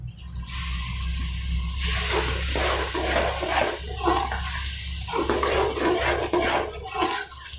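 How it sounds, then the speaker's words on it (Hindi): A little water is poured into a pot of spiced palak gosht, a steady, close splashing rush that continues for several seconds with small sloshing bursts. "थोड़ा सा पानी डाल लेंगे।"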